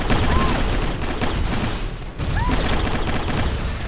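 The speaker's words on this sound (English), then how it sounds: "Get out my grenade launcher." Grenade launcher fire in the shooter game Microvolts comes as a loud, dense run of blasts and booms that stops briefly, then resumes.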